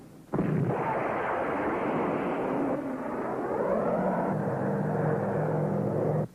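A rocket fires after a countdown in a vintage adventure serial: a sudden loud, sustained roar bursts in and holds steady for about six seconds before cutting off, close and continuous with no talk over it.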